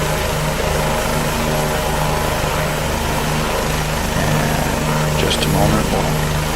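A Bell 429 helicopter in a flight simulator holds a steady, loud rotor and engine drone throughout, with someone talking over it.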